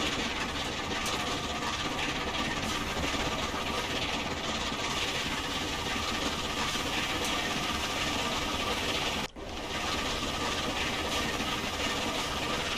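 Steam locomotive on the Fife Circle route in Train Simulator 2021, a steady dense rumbling chuff and engine drone running continuously, with one brief dropout partway through.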